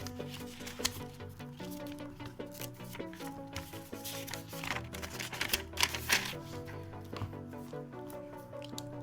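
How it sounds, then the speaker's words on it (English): A Flair Inkp Yo-Yo fountain pen writes in a Classmate spiral notebook, soft scratchy nib strokes and taps close up over faint background music, continuing in irregular bursts. "I'm going to do the writing samples in this Classmate Spiral notebook."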